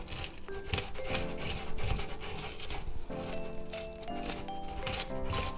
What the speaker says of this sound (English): We'll scale and fillet and leave the skin on.